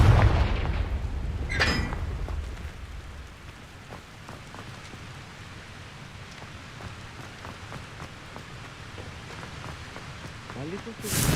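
Confringo fire spell blasts in the video game Hogwarts Legacy: a loud booming burst with crackling debris opens, fading into a soft rain-like patter, and a second explosive burst hits at the very end.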